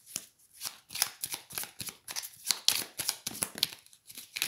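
Tarot cards shuffled by hand, a close series of crisp riffling bursts and flutters in an uneven rhythm, with short pauses between shuffles and no talking.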